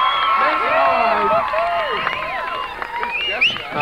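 Crowd cheering and applause at a 1989 skateboard demo in Gibbons Park, London, Ontario, with loud whoops, shouts and clapping from an outdoor audience, continuous and close, voices rising and falling throughout.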